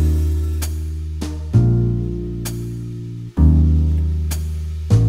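A jazz backing track played back from Mapping Tonal Harmony Pro on an iPad Pro: sustained chords that change every second or two, each marked by a soft attack, with a steady low bass line and no talking.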